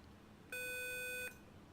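Interphone call chime in the Inibuilds A300-600 cockpit of a flight simulator, a single steady electronic tone lasting under a second over a low cockpit hum, fairly faint.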